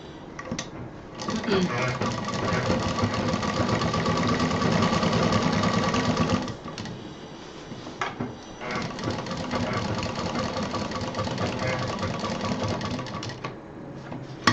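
A sewing machine runs steadily while stitching together the side panels of a stylish handmade bag, with one long run, a brief stop, then another sustained stretch, as someone speaks over the whirring.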